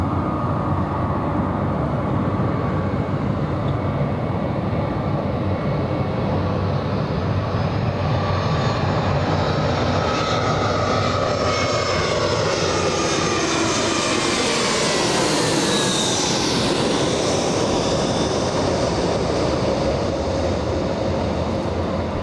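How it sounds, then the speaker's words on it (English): JetBlue Airbus A320 jet arriving at Los Angeles International Airport, a loud continuous engine roar that swells and shifts pitch as the plane passes close by, sustained for over twenty seconds with no talk. "JetBlue 2531 flying in from Salt Lake City."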